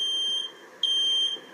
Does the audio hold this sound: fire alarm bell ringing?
yes